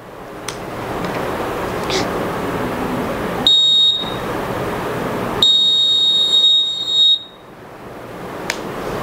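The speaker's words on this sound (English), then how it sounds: "This is the rain sensor that connects of this buzzer. It makes the sound when the raindrop fall on this rain sensor." The buzzer of a school science-expo rain sensor project sounds two loud, shrill electronic tones, a short burst then a longer one, over noisy crowd chatter in an exhibition hall.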